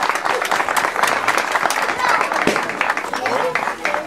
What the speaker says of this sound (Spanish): Despedimos con un fuerte aplauso a las personalidades que hoy nos acompañaron